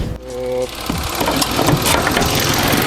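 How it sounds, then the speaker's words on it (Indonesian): A Mitsubishi Mirage three-cylinder engine idles steadily and smoothly at close range, a dense continuous mechanical hum with faint ticking; a brief voice is heard at the start. "Kondisi mesinnya kita bisa dengar suaranya masih halus ya teman-teman."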